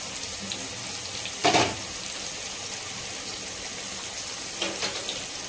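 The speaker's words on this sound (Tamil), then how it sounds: "ஆனியன் நல்லா வதங்கட்டும்." Onions and green chilli sauté in a pan for a goat intestine gravy, giving a steady, soft sizzling hiss with two brief louder bursts, probably from stirring. No one speaks.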